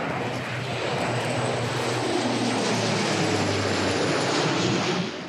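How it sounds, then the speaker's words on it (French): Dash firefighting water bomber of the French civil security approaching over a wildfire, its propeller engines roaring loud and steady, the drone building slightly as the plane nears, with no voices over it. "Le Dash de la sécurité civile est en approche."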